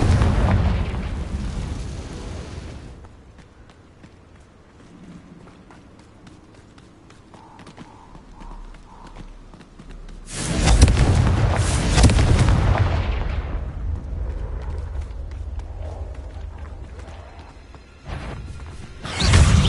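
Confringo blasting spell explosions in Hogwarts Legacy on PS5, heavy booming blasts in two big bursts with rumbling decay and quieter game sounds between, ending in another blast.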